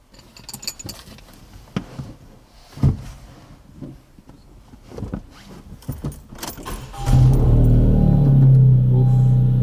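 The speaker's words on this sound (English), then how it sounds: "Let's go ahead and start up the car" Keys jangle and interior clicks and clunks come first, then a Honda Civic engine cranks and catches, settling into a loud, steady low idle rumble.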